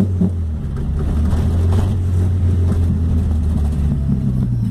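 A boxy VW Gol, originally 1.6 CHT, now fitted with an AP 2.0 engine, carburettor and sport exhaust, revving steadily close by: a loud, deep, continuous exhaust rumble with slight swells and no talk.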